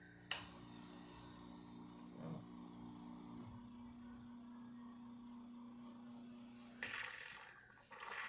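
A Cimbali M21 espresso machine runs a short programmed shot after an overpressure service. It starts with a sharp burst, then a low steady pump hum with faint water trickle, and ends with another hiss, all close and alone.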